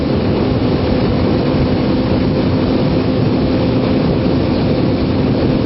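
A Kawasaki Ninja 250 motorcycle ridden on a December day: a loud, unbroken roar that blends engine drone with rushing wind, holding steady for the whole stretch.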